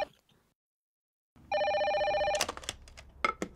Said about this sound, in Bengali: মারে ফোনটা তোল